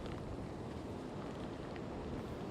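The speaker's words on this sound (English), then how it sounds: "we're seeing you're getting some more of those wind gusts" Wind gusts from Hurricane Florence roar across the beach at Carolina Beach on Pleasure Island, a steady broadband rush with no pauses, loud and close against the microphone.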